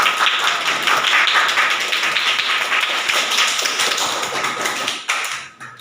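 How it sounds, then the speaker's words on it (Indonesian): A classroom of students applauds group 3 with sustained, dense clapping from many hands that holds steady for about five seconds, then thins and fades out. "tepuk tangan untuk kelompok 3"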